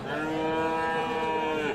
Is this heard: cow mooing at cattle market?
yes